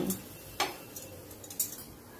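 A spoon stirs semolina, milk powder and water in a pan, giving faint scrapes and a few light clinks against the metal at irregular intervals.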